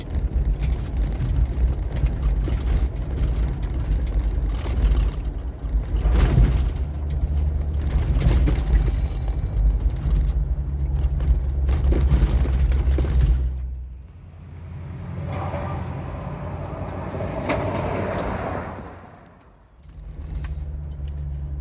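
A vehicle fitted with a 3.5-inch AccuAir dynamic lift kit and JRI monotube shocks driving over a bump at 30 mph: a loud steady engine and road rumble with knocks and creaks from the suspension, then a quieter stretch as it slows.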